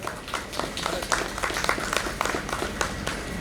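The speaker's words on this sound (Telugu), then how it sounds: "సో చప్పట్లతో ఆహ్వానిద్దాం." An audience claps steadily to welcome a marketing head onto the stage at an organic wellness products event, a dense patter of many hands over a few seconds.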